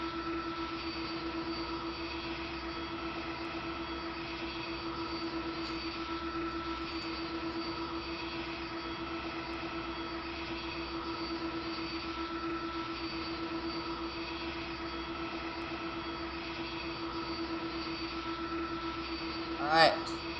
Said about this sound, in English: we are currently taxiing to one left.